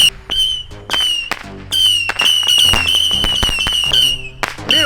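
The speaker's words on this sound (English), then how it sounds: "This is the world's most annoying firework." A long whistling firework burns with a continuous shrill whistle, broken by sharp crackling pops and bangs, loud and close, with brief pauses between bursts.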